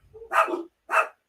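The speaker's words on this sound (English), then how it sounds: "every time someone opens the door, these dogs flip out" Several dogs barking in an indoor home as a door opens, three close, loud bursts with short gaps between them.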